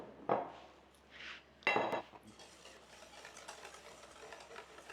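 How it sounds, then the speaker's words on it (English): Eggs and melted butter are whisked together in a bowl for iron skillet cornbread. Two sharp clattering strikes against the bowl give way to a soft, continuous scraping swirl, close and fairly quiet. "So let's now mix our wet ingredients together."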